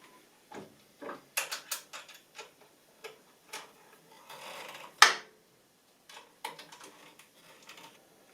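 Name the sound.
locking the fence of an Incra TS-LS positioner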